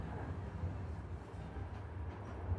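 A passenger train running in the Murder in Alps game, a steady low rumble of rolling wagons, constant and moderately quiet with no distinct clacks.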